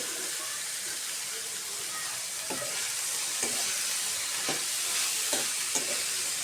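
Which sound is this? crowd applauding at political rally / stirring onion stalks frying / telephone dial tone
stirring onion stalks frying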